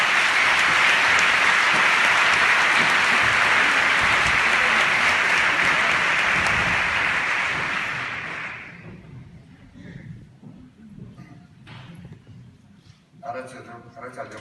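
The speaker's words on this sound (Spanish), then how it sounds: "recibimos con un fuerte aplauso a Rafael Gardezábal" Loud sustained applause from the audience at the Bilbao Dendak retail awards gala, a dense roar of clapping that fills the hall for about eight seconds, then fades into scattered claps and quiet room noise.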